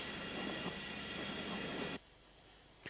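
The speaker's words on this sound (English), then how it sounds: "In action was one of the last ever locos built at Brighton in 1954, standard 264 tank 80151." A Brighton-built 1954 Standard tank steam locomotive, number 80151, roars past as a steady broad rumble with hiss for about two seconds, then cuts off abruptly to faint background.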